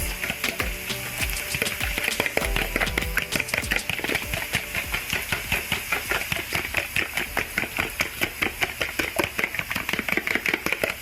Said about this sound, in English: now I'm gonna beat 3 eggs and add it to the mix